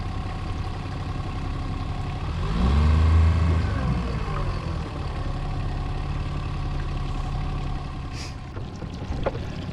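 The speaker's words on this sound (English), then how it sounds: "alrighty then, engine is going" A small engine in a remote Alaskan bush river setting fires up and revs in a loud surge. It then settles into a steady, close idle, with a sharp knock near the end.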